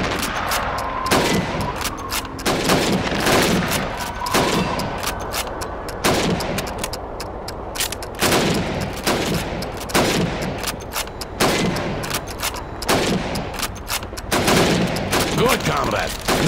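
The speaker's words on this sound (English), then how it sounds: "You have 15 seconds to shoot the helmets." Rifle fire at helmets on a Red Army training range in the video game Call of Duty 2: a rapid, steady series of sharp gunshots, a burst roughly every second, loud and close throughout.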